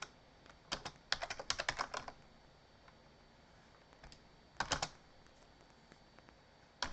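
A credit card number is typed on a computer keyboard in a networking lab, with quick close bursts of key clicks, a pause, then a few more keystrokes, and no talking.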